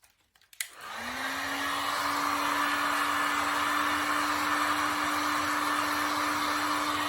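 A heat gun starts with a click and spins up into a steady, loud blowing whir with a constant hum, held continuously while heating glued-on furniture moulding.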